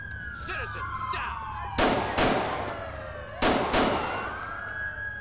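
Gunfire in the police game GTA IV with LCPDFR: two loud, closely spaced shots, then a pause and two more, over a wailing police siren.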